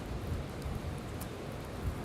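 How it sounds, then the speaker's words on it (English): Rain falls outside in New York City, a dense, even hiss of drops with low rumbling wash underneath and no one speaking. "Even though it's not windy right now, it's raining."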